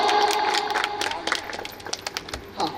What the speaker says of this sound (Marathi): थोडं जोरदार टाळ्या.